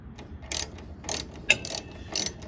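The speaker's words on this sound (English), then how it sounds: "Yeah, we're old school here. We use the ratchets." A hand ratchet works on the rear shock bolt of a Legend race car, producing four or five short bursts of crisp clicking with brief pauses between them. The clicking is close and fairly quiet, and no one talks.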